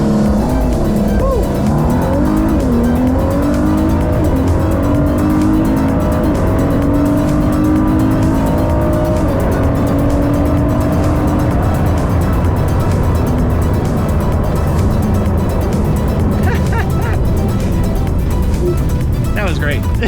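A Ford GT on a private track revs hard during a launch-control start, its engine note rising and falling in sweeping pitch changes over a loud, steady roar, and a voice talks over it.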